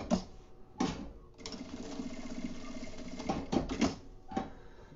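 A sewing machine stitching a straight seam on a makeup bag, quiet and close, with a rapid mechanical chattering run between short pauses and fabric handling clicks, no talking.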